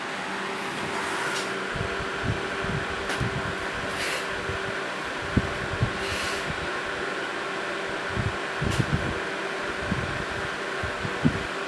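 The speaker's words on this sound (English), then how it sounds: "Can you guys hear the fan blowing?" A DeWalt DCE511B jobsite fan blows with a steady, continuous whoosh and a mechanical hum, with occasional soft knocks and clicks sounding nearby.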